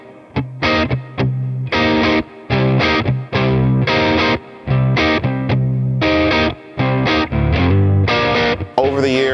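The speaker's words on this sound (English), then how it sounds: "the classic vibe Baritone Custom Telecaster" A Squier Classic Vibe Baritone Custom Telecaster electric guitar plays loud, distorted low-tuned chords in choppy, rhythmic bursts separated by short gaps.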